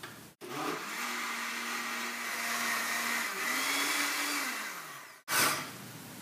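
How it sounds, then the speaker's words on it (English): Blender motor whirring loudly while blending hummus with chickpeas, a sustained close drone that dips and rises in pitch once before cutting off abruptly, with a short clatter after. "I'm going to blend this."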